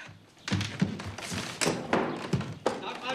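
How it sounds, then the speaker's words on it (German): A stuck door is yanked and thumped several times, with irregular heavy knocks and thuds close by amid small rattles. "seit wann klemmt denn die Tür?"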